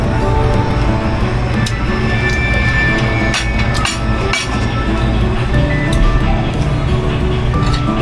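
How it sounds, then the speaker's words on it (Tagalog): Steady traffic noise from a street outside a home in the Philippines, with vehicle rumble and distant videoke music blending into a dense, continuous wash of sound throughout. "May nagbe-videoke, may mga ingay ng mga sasakyan."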